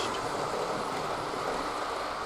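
A Hornby Coronation streamlined model train runs along its track in a steady, continuous rush of rolling wheel noise, fairly close and unbroken throughout.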